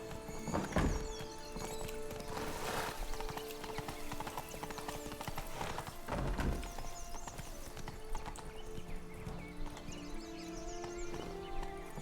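Horse hooves clip-clop at a trot in The Witcher 3, with loud heavy hoofbeats at around 1 and 6 seconds over a steady stream of hoofbeats and game ambience, and an occasional whinny.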